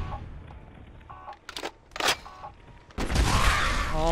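Gunfire in Fallout 4, with a few sharp, separate shots and bursts in quick succession, then a louder, sustained blast with heavy rumble to the end.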